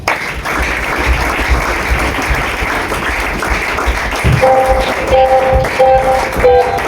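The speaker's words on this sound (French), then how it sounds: "Est-ce que nous pouvons acclamer pour Jésus?" A church congregation applauds for Jesus with steady, dense clapping throughout, with a few sustained musical tones entering near the end.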